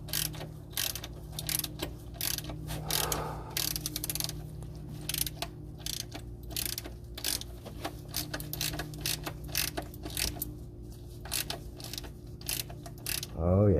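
A ratchet works a tight bolt loose on a 2009 Audi A4 turbo during an oil change, with irregular bursts of rapid clicking and metallic clanks, close up and repeated, with brief pauses between pulls.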